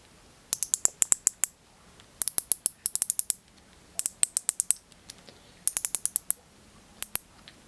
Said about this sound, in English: here's the star drag adjustment over here. Let's tighten.